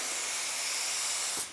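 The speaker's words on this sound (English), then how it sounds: "So the atomization here in the spray gun" A paint spray gun atomizes a steady stream of spray, giving a broad, even hiss that runs loud and close before cutting off abruptly near the end.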